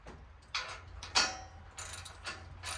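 Socket wrench ratcheting as bolts are tightened while fitting a log catcher to a County Line 25-ton log splitter; several short bursts of close, crisp clicking with brief pauses between them.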